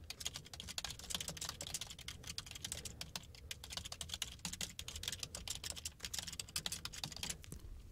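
Rapid, continuous keystrokes clatter on a computer keyboard while a post is written, close and fairly quiet, with an uneven rhythm and brief pauses, no talking.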